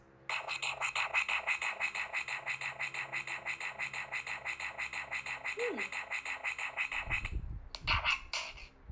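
A rapid, rhythmic electronic tone from a Bop It toy pulses continuously for several seconds, then stops, followed by a couple of short bursts and some handling noise.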